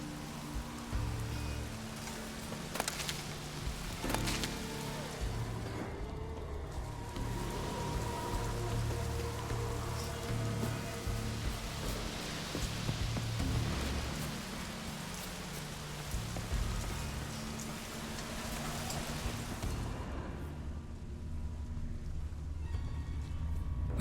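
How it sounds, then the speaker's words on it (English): Rain falling in Witcher 3 gameplay on Skellige, a steady dense patter of drops on surfaces continuing for the whole stretch with no talk, its hiss swelling and easing slightly. "Looks like rain."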